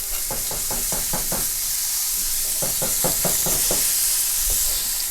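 Halal organic beef smash burger patties scraped off a hot griddle: two rapid runs of five or six rhythmic metal scrapes over a constant loud sizzle, then a final single scrape; no voices.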